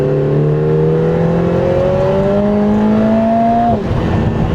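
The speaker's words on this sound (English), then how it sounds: "I'm hoping you can hear the induction noise." A Lotus Emira engine revs steadily upward with a loud, rising induction roar, then abruptly drops as the throttle lifts near the end.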